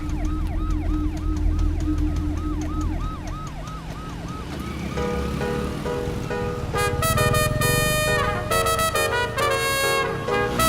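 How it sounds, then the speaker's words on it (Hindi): An ambulance siren wails continuously in busy traffic, first as a rising and falling tone, then as a faster warbling pattern, loud and close over steady engine rumble. "एम्बुलेंस को रास्ता दे, इतनी भी अक्ल नहीं है।"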